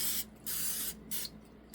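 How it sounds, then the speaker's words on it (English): Cooking spray hisses onto muffin pans in a kitchen, three brief bursts of spray separated by short pauses, close and clear with no talking. "let's spray our muffin pans"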